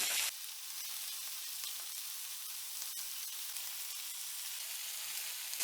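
Köfte meatballs sizzle steadily in a pan, a constant bright hiss that stays fairly quiet and even throughout.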